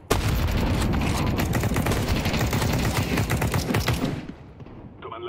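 Loud, continuous rapid gunfire during a video game hallway shootout, sustained automatic bursts that cut off abruptly near the end.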